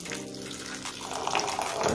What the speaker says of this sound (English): I'm adding warm water to it.